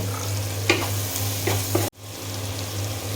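Prawns frying with turmeric and salt in a pan: a steady close sizzle with a low hum underneath, broken by a few sharp scrapes of stirring and a brief dropout near the end.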